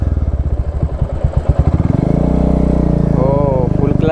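Royal Enfield Classic 350 motorcycle engine running close by, a loud steady thumping idle that rises into a smoother revving drone, with someone talking over it.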